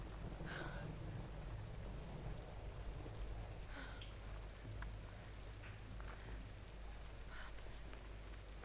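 Steady rain falls in the Tomb Raider game, a faint, continuous hiss with scattered drop spatter and a low rumble beneath, while a voice murmurs faintly in the background.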